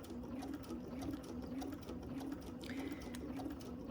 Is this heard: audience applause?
no